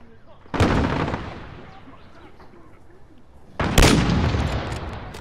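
Two heavy grenade blasts in the shooter Call of Duty: Modern Warfare, each a sharp loud boom followed by a rumbling decay, spaced about three seconds apart over faint background battle noise.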